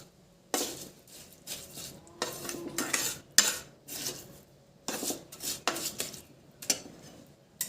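Adadiya pak mixture, a Gujarati sweet made with desi ghee, stirred in a pan with repeated scraping, rasping strokes of a spoon in irregular bursts, close and clear with no talking.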